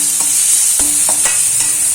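A large cut onion sizzles in hot oil while being sautéed for vazhaipoo kuzhambu, with a loud, steady frying hiss broken by a few close scraping stirs of the pan, and no talking.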